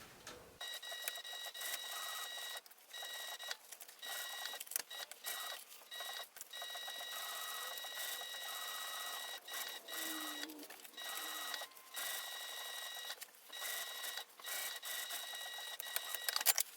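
A sewing machine topstitching through several layers around the exterior of a crossbody bag runs in a steady, close mechanical whir with rhythmic needle clatter, pausing briefly now and then.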